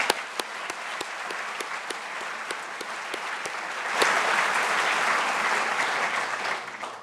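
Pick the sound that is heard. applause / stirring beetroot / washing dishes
applause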